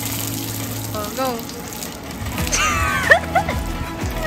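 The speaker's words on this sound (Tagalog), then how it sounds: "Go shower." Shower water runs and gushes in a bathroom during a family reunion, splashing steadily at close range while people talk over it.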